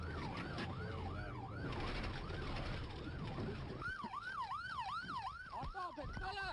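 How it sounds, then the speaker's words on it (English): Police siren wailing in a steady rising-and-falling pattern during a high-speed chase of a pickup truck, loud and close with road and engine noise underneath, the wail sharpening in the second half. "A pickup truck driver ignores the lights and sirens and accelerates to nearly 100 miles an hour"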